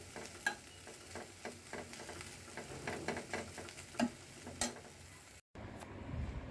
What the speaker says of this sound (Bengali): এখানে আমি লটকা শুটকিটা টেলে নিচ্ছি।